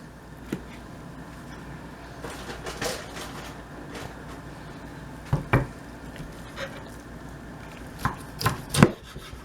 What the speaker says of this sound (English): I got these leg quarters, and I'm gonna see if I can cut them in pieces